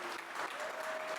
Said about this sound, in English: Big round of applause for Dennis and the team.